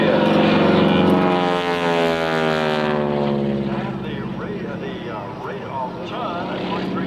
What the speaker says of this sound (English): It is actually the tips of the propellers breaking the sound barrier.